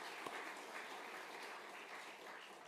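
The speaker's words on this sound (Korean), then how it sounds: "박수 한번 해주세요" A church congregation claps together during a Sunday worship service welcoming visitors from a sister church, a steady wash of applause held at even loudness throughout.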